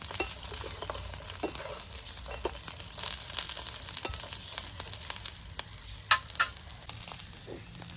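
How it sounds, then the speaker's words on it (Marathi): Spices for a big-prawn curry masala sauté in a pan with a soft, continuous sizzle, broken by occasional stirring scrapes and a few crisp crackles, with no voices. "हे सुद्धा परतून घ्यायचे मसाले दोन मिनटासाठी"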